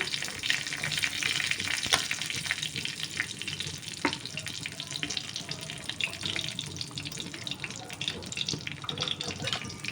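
Cumin seeds, a bay leaf and dried red chilli frying in hot oil for a vegetarian dish, giving a steady loud sizzle and crackle throughout, close by, with occasional sharper pops and no talking.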